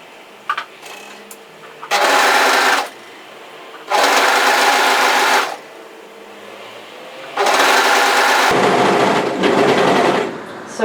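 A sewing machine stitching a knit sweater seam runs in three loud, close bursts of steady whirring of about one, two and three seconds, with quiet pauses between them.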